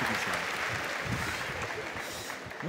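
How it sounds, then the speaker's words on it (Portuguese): Dense audience applause fills a crowded Campus Party tech event hall, loud and steady throughout with crowd noise and faint voices underneath. "Uma salva de palmas."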